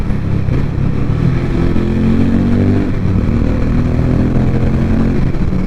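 Harley-Davidson X440 motorcycle, a small-engine bike, revving hard inside a tunnel, its loud, booming exhaust reverberating off the walls in one continuous roar that holds steady throughout with no voices.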